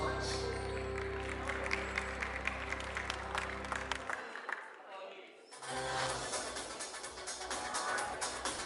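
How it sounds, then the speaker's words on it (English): An audience applauds at a Philippine Global Queens 2019 pageant coronation night, a steady wash of clapping that fades into a brief lull and then swells again, with a voice speaking over part of it. "Let's give him another round of applause, ladies and gentlemen"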